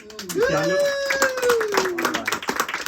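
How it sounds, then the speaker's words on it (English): Guests at a graduation celebration clap, scattered hand claps rising under a loud sung or drawn-out voice and other talk, the clapping growing more distinct toward the end. "I said this deserves another round of applause"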